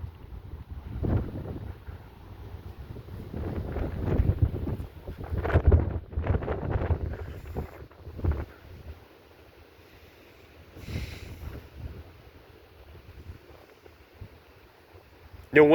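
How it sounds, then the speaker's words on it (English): Strong, gusty wind blowing outdoors in the country ahead of a storm, rising and falling in rumbling low gusts that buffet the microphone, with faint brief sounds between gusts. "The wind definitely picked up some since I've been out here before I ate lunch."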